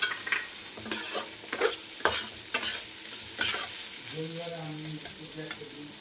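Chopped tomato fries in a pan for a chickpea curry. Close, busy stirring scrapes ride over a constant sizzle for several seconds, then the stirring eases and a faint tonal hum joins the softer frying.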